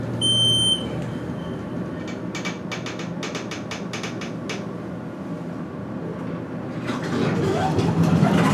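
Elevator beeper in a university main hall gives a short series of sharp high electronic beeps over a steady mechanical hum of the car, with a voice speaking nearby toward the end.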